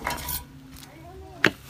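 A knife cuts a piece of banana leaf with faint rustling and scraping, ending in one sharp, crisp snap close by.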